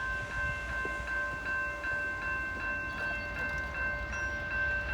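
A northbound CSX freight train passes through snow at the Heaton Street crossing, giving a steady, fairly faint rumble under a sustained tonal hum, with no voices.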